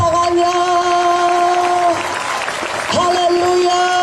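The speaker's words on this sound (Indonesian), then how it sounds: "Lebih kuat tepuk tangannya." A church congregation at a revival service in Sibolga applauds, a dense clapping wash under amplified music with sustained tones that drop out briefly in the middle, loud and continuous throughout.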